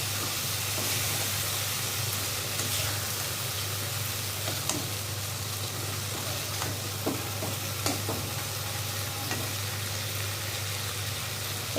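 Chicken stir-frying in a pan for a curry with taro stems, a steady sizzle and hiss with occasional stirring scrapes and pops, close and continuous without talk.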